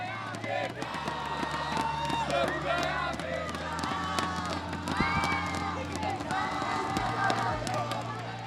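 A Brazilian crowd at an LTA Americas watch party roars and cheers for Vivo Keyd Stars in a steady, dense wall of noise with shouting and clapping; other voices are mixed in throughout.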